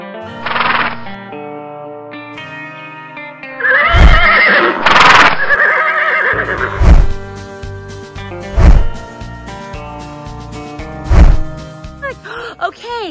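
Horses on a farm give several loud, close whinnies and snorts spread through the stretch, with a few hoof thumps in between and brief voices in the background.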